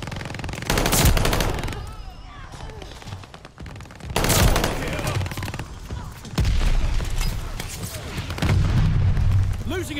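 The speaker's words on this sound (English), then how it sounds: "Mortar shells!" Mortar shells explode during a weapons test: loud, close blasts and heavy rattling bursts come in several waves, each followed by a brief lull, with no talk.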